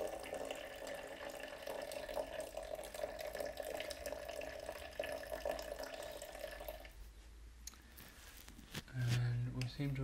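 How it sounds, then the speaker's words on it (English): Tap water runs steadily into a container to raise its temperature during a pigment extraction, a continuous close hiss for about seven seconds before it stops and a few small clatters follow. "Just adding a little more water to try and bring the temperature up."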